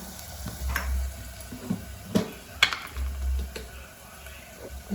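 A spoon stirs mutton curry in a frying pan with a soft sizzle underneath. Scraping strokes and light clinks come close by in an uneven rhythm.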